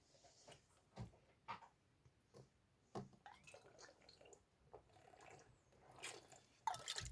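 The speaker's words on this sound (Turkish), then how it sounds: "su içiyorum yanlış görünmesin." Water being drunk indoors: faint sips, swallows and small liquid clicks spread irregularly, close and quiet, with a brief louder handling noise near the end.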